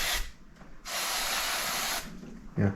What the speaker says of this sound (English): spraying off the outside